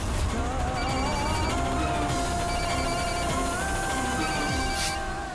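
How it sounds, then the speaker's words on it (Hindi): A telephone rings in an indoor home setting, a steady electronic ringtone repeating in thin tonal bursts over a constant background hum, with no talk. "भाई मामी का फोन आ रहा है"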